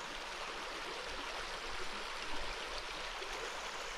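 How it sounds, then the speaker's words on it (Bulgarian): A river rushes steadily through a winter forest in Strandzha, a dense, even wash of flowing water with no pauses, close and moderately loud, with no voices. "и шума на реката"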